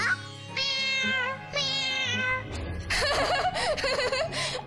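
A cartoon cat meows in long, drawn-out, high cries near the front, followed by lively, giggling, laughter-like voices.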